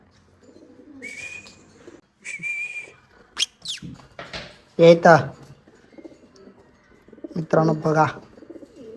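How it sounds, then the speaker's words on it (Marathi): A young pigeon being raised for training coos and calls in short bursts, with whistly notes and a loud throaty coo near the middle and end, while someone talks between the sounds. "मला तर खूप आवडला हा कबूतर"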